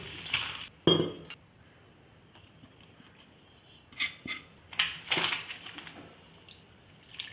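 A spoon clinks against a bowl while stirring gram-flour batter for onion pakoras, with a few sharp, scattered clinks separated by quiet stretches.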